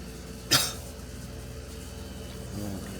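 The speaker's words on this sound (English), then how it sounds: "I've coughed for quite a while." A man gives one sharp, close cough outdoors, with quiet background noise before and after it.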